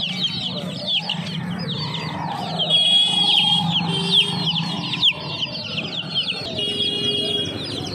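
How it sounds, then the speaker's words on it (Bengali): Desi chickens and small chicks at the Saturday hen market in Uluberia: hens cluck nearby while chicks cheep in rapid high bursts throughout, with a background murmur of the busy market. "এখানে দেশি মুরগি রয়েছে এক জোড়া দেখতে পাচ্ছ"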